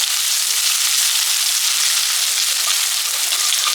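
Ginger and garlic sautéing in hot oil over a medium gas flame for a Kerala-style squid roast, a loud, dense and steady sizzle running throughout with no voices.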